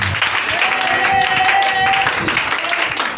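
A church congregation claps and cheers in acclaim of Jesus during a worship service, a dense, steady wash of applause mixed with voices and a held musical tone throughout.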